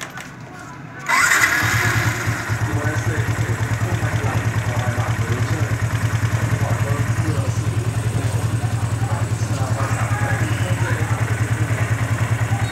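A Yamaha Exciter motorcycle engine cranks and catches after a brief quiet moment, then settles into a steady, loud, close idle with an even rhythmic thrum that runs to the end.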